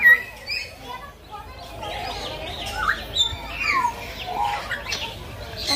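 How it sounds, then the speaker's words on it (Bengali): A cockatoo in a bird aviary gives a series of short, rising squawks and chirps, moderately close, over a low background of other birds and faint voices. "এটা হচ্ছে কাকাতুয়া।"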